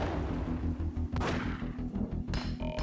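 Grenade blast and gunfire in the Max Payne video game: dense, booming game combat with repeated low thumps and shots, a sharp burst partway through and another near the end, loud and continuous without speech.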